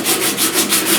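Rhythmic hand sanding scrapes over body filler on a truck cab corner repair, with about six even back-and-forth strokes, loud and close.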